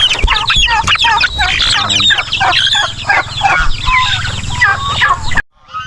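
Free-roaming chickens and turkeys cluck and crow continuously at close range in an outdoor farmyard, a dense, busy chorus of overlapping calls that cuts off abruptly near the end.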